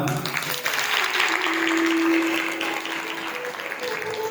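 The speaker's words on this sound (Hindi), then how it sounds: "इनके लिए जोरदार ताली" Loud, sustained applause from a devotional audience at a Shrimad Bhagavat Katha in a Panipat Parshuram temple, dense and even throughout, with a steady held tone sounding beneath it through the middle.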